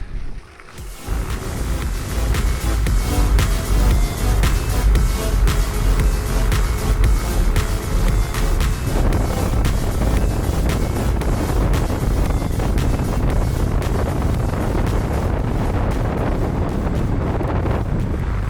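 A Hiley Tiger EVO GTR electric scooter rides at speed, buried under loud, continuous wind roar buffeting the microphone for the whole stretch, with no talk.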